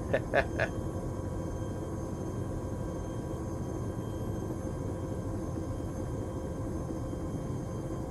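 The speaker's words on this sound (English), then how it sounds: "Yes, Liru, helicopters are loud." A helicopter in the military game Arma 3, heard from the cabin, gives a steady, droning rotor-and-engine rumble that runs continuously throughout, with a few brief higher clicks near the start.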